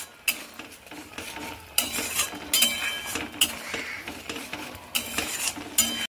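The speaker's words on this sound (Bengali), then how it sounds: "এবার আমি দিচ্ছি কাশ্মীরি লঙ্কার গুঁড়ো। আবার আমি একটু নেড়ে নিচ্ছি।" Pointed gourd curry with Kashmiri chili powder being stirred in a pan, a spoon scraping and clinking against the metal in repeated close strokes over a soft background sizzle, with no talking.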